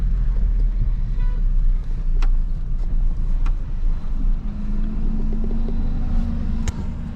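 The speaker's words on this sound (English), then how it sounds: "we had to make a little bit of a plan to get out of the way of these big buses passing us in the back" Big buses rumble past a vehicle on a safari road in Dinokeng, giving a heavy, continuous low engine drone close by, with a brief horn-like toot and a rising engine note toward the end.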